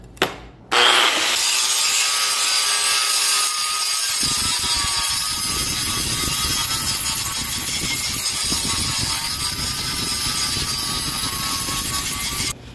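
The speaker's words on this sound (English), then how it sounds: "I'm gonna grind everything out and see what kind of metal we have in there" A grinder works a stainless san mai cleaver blade, a loud continuous abrasive whine starting abruptly and holding steady with slight wavering for over ten seconds.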